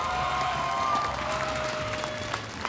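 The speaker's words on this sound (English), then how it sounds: "give AP Brand a big round of applause" An audience applauds at the M5 World Championship esports event, steady clapping and light cheering from a large crowd that slowly tapers off.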